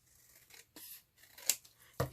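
Scissors snip through paper while making a storage envelope, a few short crisp cuts spaced out, with a louder final cut near the end; quiet and close.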